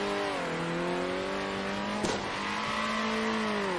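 A race car in the video game Circuit Superstars drones steadily in close view, its engine tone dipping and then climbing again as it corners, with a brief scrape or squeal partway through.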